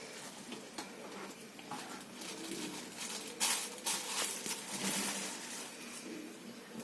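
Black cumin seeds frying in hot oil in a kadai while fish curry is cooked, giving a steady close sizzle with brief stirring and clinking bursts in the middle and no talk.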